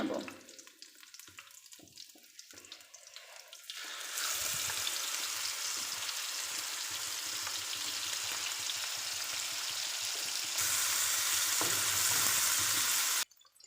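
Prawns coated in panch phoron, cumin, salt, turmeric, chili powder and coriander powder fry in a pan. A few soft knocks come first, then a loud, steady sizzle takes over for the rest of the clip and turns slightly brighter near the end.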